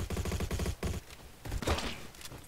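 Rapid automatic gunfire in a video shooter game, dense bursts of shots in quick rhythm, then a short pause and another heavier volley, loud and up front with no speech.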